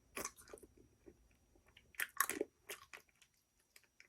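A lip-shaped Bardo ice cream bar is bitten and chewed up close, giving quiet, intermittent crunchy bites and soft mastication sounds with no talking.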